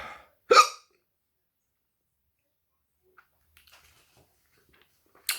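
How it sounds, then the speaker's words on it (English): A single sharp hiccup from a person who has just eaten hot sauce, followed by near silence with faint small sounds and the start of another hiccup-like burst at the end. "Told you I'd get hiccups."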